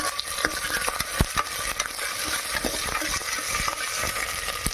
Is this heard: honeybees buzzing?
no